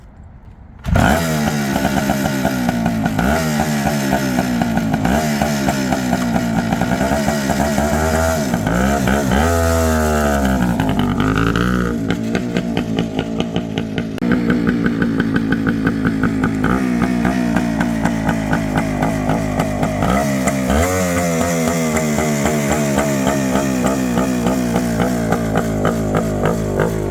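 A Suzuki TS400 Apache motorcycle engine, an old bike being revived, runs loud and close with a rough two-stroke-style buzz, repeated throttle blips and revs rising and falling over a continuous idle.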